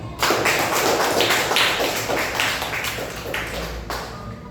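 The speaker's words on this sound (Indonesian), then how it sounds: "Berikan tepuk tangan." Group hand clapping in an Islamic study class: a dense burst of claps with audible individual slaps, starting abruptly and fading gradually over a few seconds.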